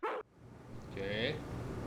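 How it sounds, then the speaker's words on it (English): Dog barking in the horror video game Harvester, a short sharp bark at the start followed by game audio and talk. "Once he gets barking, a good piece of meat is the only way to shut him up."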